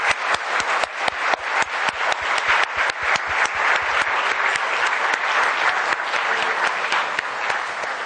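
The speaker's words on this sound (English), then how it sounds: "round of applause for them" Sustained audience applause for contestants and their parents at a competition, many hands clapping in a dense, steady patter at close range for several seconds without voices.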